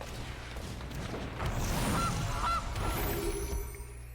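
Two short goose honks ring out in quick succession within a Magic card video game, sitting over a dense, rumbling background of game audio.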